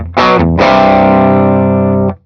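Humbucker electric guitar played through a Fractal amp modeler with the guitar's volume knob at half, two loud distorted chords, the second sustained and then cut off, close and alone.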